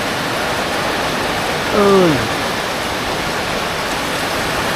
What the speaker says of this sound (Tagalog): Grabe ang ulan.